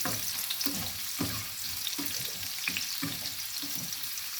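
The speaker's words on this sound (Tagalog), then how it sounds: "Ako pag naggisa, sinasabay ko na po yung sibuyas at saka bawang." Onion and garlic sautéing together in plenty of oil, a steady close sizzle broken by regular stirring strokes about every half second, no talking.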